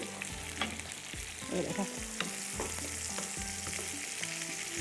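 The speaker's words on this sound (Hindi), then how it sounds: "ये आलू ज़ीरे के साथ फ्राई हुए" Potato slices fry with cumin seeds in oil, giving a continuous close sizzle with repeated spoon scrapes and stirring clatter, and a voice speaks briefly over it.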